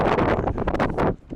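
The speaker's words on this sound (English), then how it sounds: "Oh thank God there's a wind here." Wind gusting across an outdoor microphone on a road march, a loud broadband rushing that fills the short stretch before briefly dropping away near the end.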